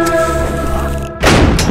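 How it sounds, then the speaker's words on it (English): Cannon fire in the video game Isle of Lost Skulls: a single loud, close boom that cuts in sharply over a steady tonal game background. "Now just dodge all the cannons."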